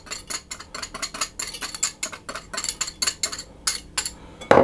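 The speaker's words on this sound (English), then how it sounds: "to my flour I'm going to put the baking powder and mix that around" Flour and baking powder stirred together in a bowl, a quick run of repeated metal-on-bowl scrapes and clinks in an irregular rhythm, close and moderately loud, ending on a louder knock.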